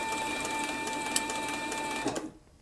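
A Cowboy CB4500 leather sewing machine running flat out, a steady high mechanical whine with a fast rhythmic clatter that cuts off abruptly near the end.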